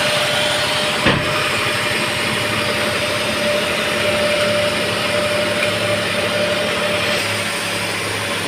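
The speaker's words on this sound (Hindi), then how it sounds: "इंजन हो गया है एकदम शानदार तरीके से स्टार्ट।" A Datsun Redigo car engine idles after an overhaul for overheating, a steady close mechanical hum with a constant whine and no rev changes, heard alone.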